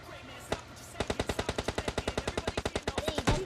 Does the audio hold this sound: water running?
no